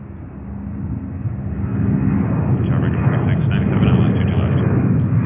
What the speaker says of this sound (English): Taking off here on runway 22 right.